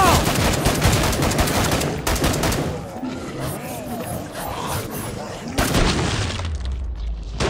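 Rapid bursts of gunfire from Killing Floor 2 on the Krampus Lair map. Loud, dense shots and a few heavy booms fill the scene, with a player's voice talking over the shooting.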